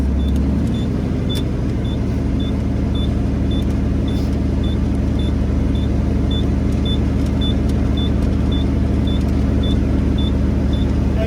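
A truck engine running steadily with a deep, loud rumble and a faint repeating beep over it.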